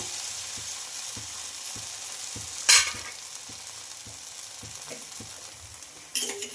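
Dosa batter spread across a fully heated pan, sizzling steadily, with soft regular scraping taps as it is spread and a couple of sharper bursts of sizzle partway through.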